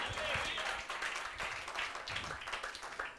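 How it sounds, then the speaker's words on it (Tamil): A church congregation claps their hands together, a lively, uneven patter of many hands at moderate loudness, with a voice speaking over the applause. "கைத்தட்டுங்க ஒருத்தர்."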